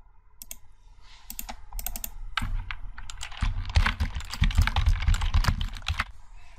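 Fast keystrokes clatter on a computer keyboard while a notebook title is renamed in Jupyter, starting with a few sparse taps and building into dense, close, rapid typing, with no talking.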